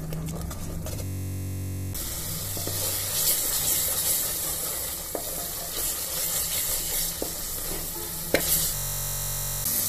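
Spice masala for Amritsari pindi chole roasting in a pan, a steady close sizzle and hiss with occasional scraping stirs and light clinks throughout, no talking.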